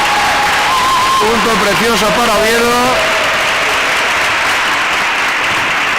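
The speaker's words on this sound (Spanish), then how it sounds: "Muy aplaudido en la grada, no podía ser de otra manera." Crowd applauding in the stands at a women's Superliga 2 volleyball match between C.V. Oviedo and Extremadura Arroyo, loud sustained clapping and cheering under an excited commentator's voice.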